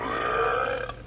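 A loud, drawn-out cartoon burp from the Brawlhalla video game during a burping contest, one continuous belch lasting about a second with a slight wobble before tailing off.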